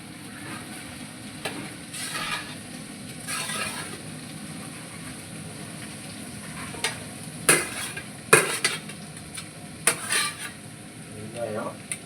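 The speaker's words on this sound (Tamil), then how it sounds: "வெங்காயம் வெட்டி வச்ச வெங்காயம்" Chopped onions frying in a pan, with a low sizzle underneath and repeated, irregular clanks and scrapes of a spatula against the metal, some of them sharp and close.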